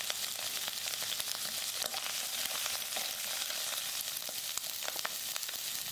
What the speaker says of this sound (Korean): 이번에도 기름을 좀 두르고요. 표고버섯 그리고 목이버섯을 같이 볶을 건데요.